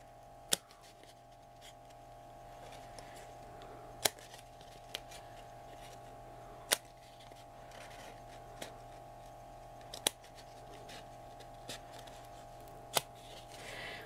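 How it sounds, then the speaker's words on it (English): Scissors snip into a cardboard toilet paper roll in a quiet room, a few isolated sharp clicks spaced a couple of seconds apart over a faint steady hum. "So we're going to cut the first one out, just scissors like that"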